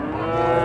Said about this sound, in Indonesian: Ini ada sapi limusin.